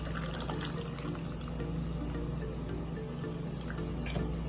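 Water streams steadily into a blender jar holding kiwi and peach for a fruit drink, a continuous close-up pouring and filling sound with no talk.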